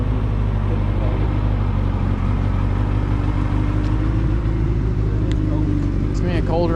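A Suzuki Hayabusa motorcycle is ridden around, its engine giving a loud, steady, deep rumble close by through the whole stretch, with a faint squeal near the end.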